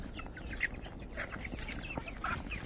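Chickens cluck steadily in a farm coop at feeding time, a flock of two-month-old birds, with repeated close calls over a constant background murmur of the flock.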